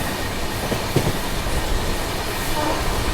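The 12437 Secundarabad Rajdhani Express runs on rails with a steady loud rumble and faint wheel clatter, heard from inside a first AC coach with no talk.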